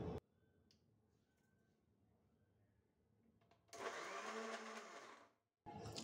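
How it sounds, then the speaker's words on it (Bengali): A kitchen blender whirs loudly as it blends boiled eggs and other ingredients for mayonnaise, a sustained burst of a few seconds that cuts off and then restarts, after a quieter stretch of low background noise. "এখন আমি এটা ব্লেন্ড করে নিচ্ছি"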